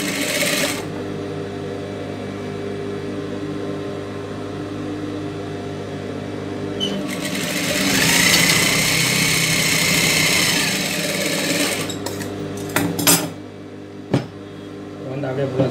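Sewing machine stitching the lining of a blouse, a steady close mechanical whir that runs for several seconds, speeds up in the middle, then breaks into short bursts and stops.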